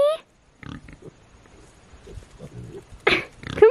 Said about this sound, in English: look at the pig chasing the cat